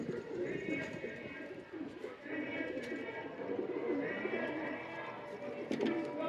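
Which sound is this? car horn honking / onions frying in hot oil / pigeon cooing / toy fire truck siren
pigeon cooing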